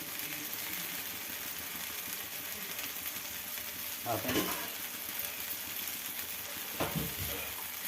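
Pesarattu, a green gram dosa topped with cumin, green chilli, onion and coriander, roasting on a pan with butter, giving a continuous close sizzle broken by two brief scraping stirs.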